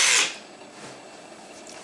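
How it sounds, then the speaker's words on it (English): Power drill boring through a workpiece: a brief loud whine at the start, then a steady lower grinding hum continuing for a couple of seconds, close by with no talk. "You might want to do this with someone else holding the piece as you drill."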